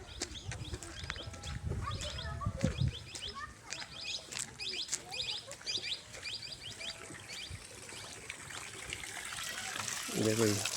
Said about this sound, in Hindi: ये पानी चल रहा है हमारा कुआं है।